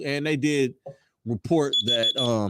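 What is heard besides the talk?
alarm going off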